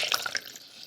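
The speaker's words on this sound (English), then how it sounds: "That's the squishy mud sound effect." A wet washcloth squeezed by hand as a squishy mud foley effect, giving a short burst of bright dripping, splattering water that trails off within a second.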